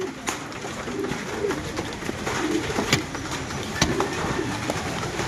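Pigeon cooing near the camera in a dark spot, soft repeated coos under steady background noise.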